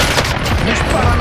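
Rapid bursts of automatic gunfire crackle loudly throughout a Call of Duty Warzone match on the Caldera map, dense and continuous with booming low end, while a voice talks underneath.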